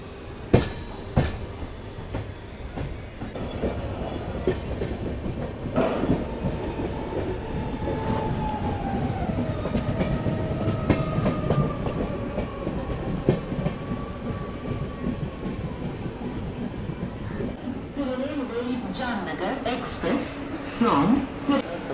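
A passenger train rumbles into Surat railway station with clattering wheels and rising squeals of brakes, loud and sustained, while people talk nearby on the platform during heavy monsoon weather.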